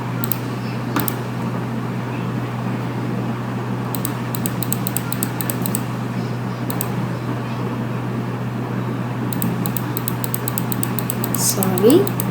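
Keys clatter on a computer keyboard in a few quick bursts of rapid tapping, separated by pauses, over a low steady hum while a person talks nearby.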